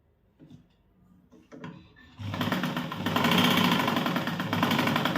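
A sewing machine stitches a small quarter-inch tuck on the front panel of a blouse. A few quiet handling clicks lead into a steady, close, whirring run of stitching that lasts to the end.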